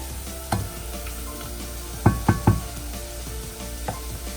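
Garlic and cumin fry in hot oil for a red lentil tarka, a soft steady sizzle underneath a few sharp knocks of a spoon against the pan, with one quick burst of three taps midway.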